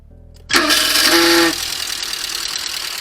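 A SEAT Ibiza MK1 with a System Porsche engine cranks briefly, then fires up with a loud burst that settles into a steady idle, close by and with no voices.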